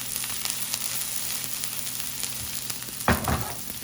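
Onions and garlic fry in a pan for a butternut squash pasta dish, giving a steady close sizzle with a brief louder burst of crackle near the end as the pan is tossed.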